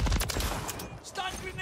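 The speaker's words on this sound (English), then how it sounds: "Stun grenade." A stun grenade goes off in Call of Duty: Modern Warfare III, a loud close burst followed by rattling crackle and ringing tail, with gunfire-like noise throughout under game sounds.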